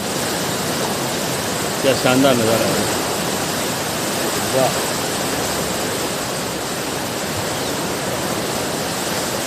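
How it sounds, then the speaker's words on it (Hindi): Water rushing steadily in the Ganga canal at Roorkee, where it crosses over the Solani river, a broad continuous roar with a voice speaking briefly over it. "ये देखो नहर में से बहता हुआ पानी"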